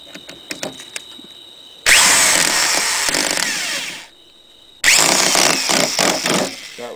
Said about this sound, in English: Time to get the screw gun out. And zap these screws down.